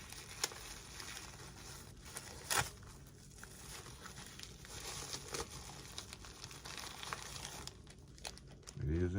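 Faint crinkling and rustling of a plastic bag being handled, with scattered crackles and a louder crumple now and then, under quiet background noise.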